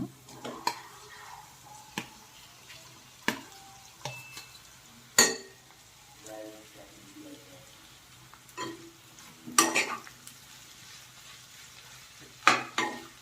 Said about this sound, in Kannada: ನೆಕ್ಸ್ಟು ನೀವು ಸ್ಮ್ಯಾಶ್ ಮಾಡಿರೋ ಆಲೂಗಡ್ಡೆನ ಇದಕ್ಕೆ ಮಿಕ್ಸ್ ಮಾಡಿ